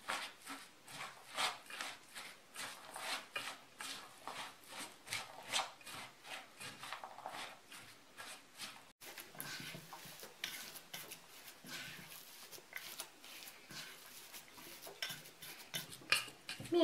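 Duck breast stuffing seasoned with salt and pepper being worked by hand in a bowl: steady, close squishing and rubbing with clinks of utensils or dish, continuous and moderately quiet throughout.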